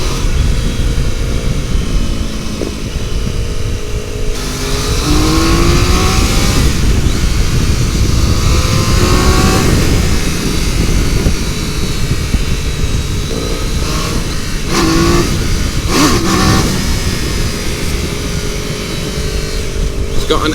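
A 2024 Triumph Daytona 660, an A2-compliant motorcycle, accelerating: a loud, continuous engine roar with rising revs and wind rush, while the rider talks over it.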